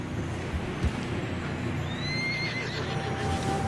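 In the video game Red Dead Redemption, a horse struggling through fresh snow on a narrow path gives a drawn-out whinny over steady wind and hoof noise, with a dull thump near the start.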